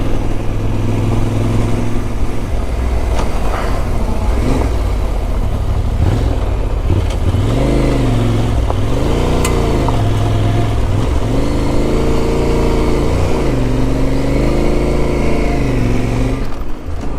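Engines of several cars climb and pass on a dusty mountain road, a loud continuous drone with rising and falling revs as each vehicle approaches and goes by close to the listener.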